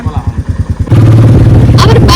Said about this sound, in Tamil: பைக் ஓட்டும் போது எடுமா